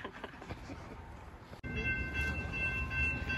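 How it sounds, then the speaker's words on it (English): A freight train passes near a rail crossing in Marietta, a loud steady rumble and rattle of cars that jumps in level midway and carries on with faint horn-like tones over it. "There's a train coming and we just crossed the tracks."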